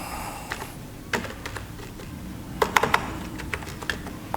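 Quick, irregular clicks of an email address being typed on a computer keyboard while a resume is drafted in MS Word 2016, with light keystrokes, a few sharper taps and short pauses over a quiet room hiss.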